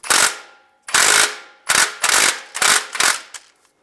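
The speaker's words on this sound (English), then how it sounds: "I'm going to take a 24mm socket, take this bolt off" A ratchet with a 24mm socket works a bolt on a 2007-2013 Chevy Silverado engine, giving sharp clicking bursts, two slow strokes then a quicker run of four or five, close and loud.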